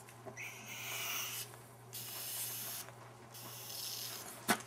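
Air blown by mouth through the front carburetor of a 1983 Yamaha XV500 Virago during a blow test gives several close, breathy hissing bursts of one to two seconds each, separated by short pauses, ending with a sharp click.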